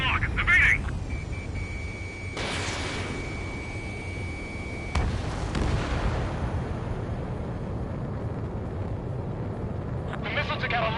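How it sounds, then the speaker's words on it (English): Missiles detonating in Ace Combat 7 land as two broad, rumbling blasts under a constant jet roar, while radio voices talk over the action. "The missile took out a lot of armaments."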